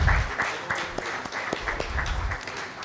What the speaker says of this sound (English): May we all have a huge round of applause for the beginning of the day too.